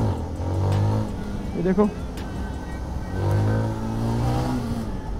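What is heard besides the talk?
Zontes 350R motorcycle engine revving on throttle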